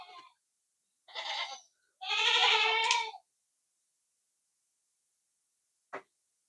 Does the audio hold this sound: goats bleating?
yes